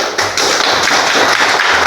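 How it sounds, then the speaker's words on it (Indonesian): Children clapping hands in a primary school classroom during a measles health lesson, close and loud in a quick, uneven rhythm that swells in short bursts. "Oke, tepuk tangan."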